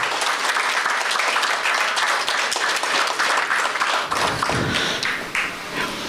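A crowd applauds at a festival inauguration and award ceremony, with dense, sustained clapping that stays loud throughout.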